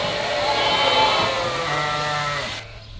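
On shearing day at Home Farm, Wimpole, a sheep gives a loud, drawn-out bleat that fills the first seconds, followed by a lower fainter bleat before it cuts off.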